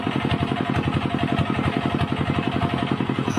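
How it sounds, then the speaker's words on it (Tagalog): An unusual vehicle engine running with a steady rapid chugging pulse, loud and close, idling with a rattly mechanical clatter and no talk over it. "Kakaiba itong makina na idol."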